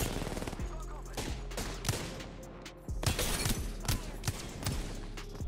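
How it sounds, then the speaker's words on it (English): Machine gun fire in the video game Apex Legends: rapid bursts of automatic shots crackle in quick rhythmic volleys, close and loud, with sustained game noise underneath. "Clutch it with your machine gun."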